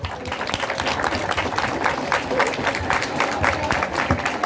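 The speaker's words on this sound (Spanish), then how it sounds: "Recibimos con fuertes aplausos a la profesora." A school audience at a school-year opening event in Chilete claps to welcome a teacher, a dense, lively round of applause at moderate volume.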